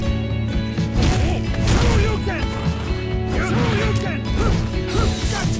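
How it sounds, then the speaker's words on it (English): Ken lands a super move in a Ken-versus-Ken match of the Mugen fighting game, with a dense run of loud smashing hits and whacks. Game music and effects fill the background, and a commentator talks over them. "Ken finally caught Ken in that super"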